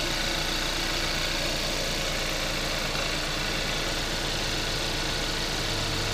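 A 2014 Kia Rio GDI 1.6 liter engine idles under an open hood, a steady smooth low hum with faint mechanical ticking, close and continuous with no talking.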